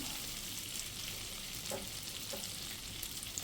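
Mustard seeds, cumin and crushed garlic frying in hot oil, a dense continuous sizzle with a few faint crackles and pops, close and alone without talk.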